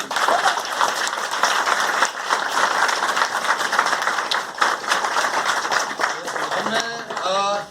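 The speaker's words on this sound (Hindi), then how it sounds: "तालियां आप सबके लिए।" Sustained applause from an audience at a Vestige corporate event, dense and continuous clapping throughout, with a voice rising over it near the end.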